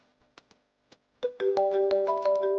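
A phone ringtone rings out loudly and steadily with a bright, melodic repeating tone, preceded by a few short soft taps.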